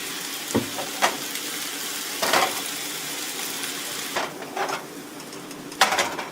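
Oil crackles and sizzles in a pan as noodles fry, with occasional sharp pops and stirring scrapes, no voices.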